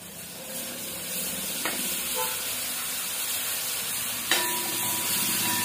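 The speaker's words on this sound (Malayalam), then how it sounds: "അതുകൂടെ ചേർത്ത് കൊടുത്തിട്ട് ഇളക്കി കൊടുക്കാം." Ground shallot paste stirred into a frying pan of mutton varattiyathu, a steady loud sizzle and hiss with two sharp spoon knocks against the pan.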